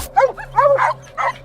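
A hunting dog barks and yips at a cornered mountain lion in a rocky forest, several quick close barks in a short burst with brief gaps.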